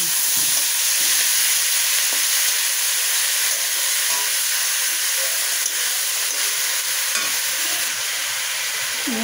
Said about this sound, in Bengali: কালো জিরা ভাজা হয়ে গেছে। এবার আমি থোড়টা